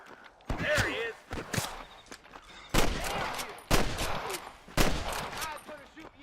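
Gunfire in the Western video game Red Dead Redemption: several sharp, loud shots ring out at irregular intervals with echoing tails, mixed with game sounds and scattered movement in between.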